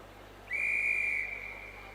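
A starter's whistle at an indoor university athletics championship sounds one loud, sustained shrill tone of about a second that fades into the arena's low hum.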